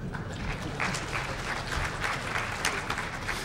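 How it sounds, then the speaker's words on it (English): Conference audience at a DEFCON security talk applauds, a dense, steady wash of many hands clapping that holds for a few seconds at moderate level. "So I think that also probably deserves a round of applause."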